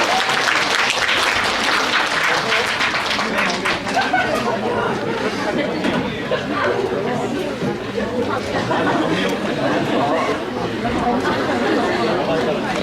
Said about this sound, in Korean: 목사님 앞으로 나오도록 큰 박수로 환영하도록 하겠습니다